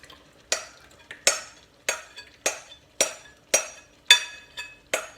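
A utensil scrapes and knocks through tomatoes, garlic and vegetables in a pan, making about eight sharp, evenly spaced stirring strokes over a faint sizzle, close and alone without voices.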